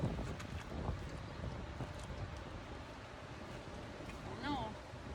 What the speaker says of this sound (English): Oh no, it's windy.